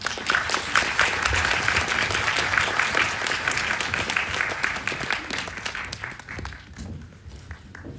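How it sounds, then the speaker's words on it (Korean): Sustained audience applause at a film screening Q&A in a cinema, loud and dense with many hands clapping, gradually thinning out toward the end. "박수 부탁드립니다."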